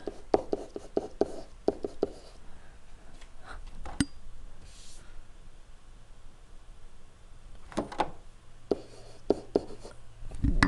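Pen or marker writing out a math equation by hand: steady scratchy strokes with short taps and pauses, close up and fairly quiet, no talking over it.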